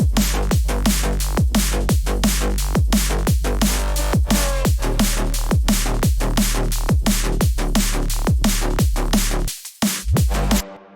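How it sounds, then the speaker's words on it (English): Stacked drum and bass bass lines play together in FL Studio for dancefloor DNB, a loud, dense groove of driving kicks and thick bass with steady fast rhythm, briefly dropping out near the end before a final hit. "I think that's all the bass lines, so I'll play them all together now"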